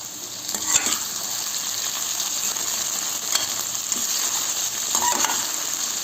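Okra frying in a pan with crushed chili, cumin and turmeric, a constant bright sizzle with occasional scraping stirs and clinks of a spoon against the pan, no talking.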